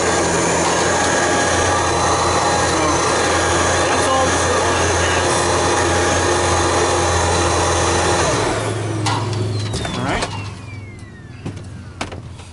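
A Riccar Prima canister vacuum cleaner runs with a loud, steady whine and roar for several seconds, then winds down and fades as its motor shuts off.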